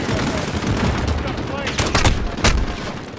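Sustained video game gunfire from Call of Duty Modern Warfare, a steady dense rattle of automatic shots with a few louder bursts standing out near the end, heard with no talking over it.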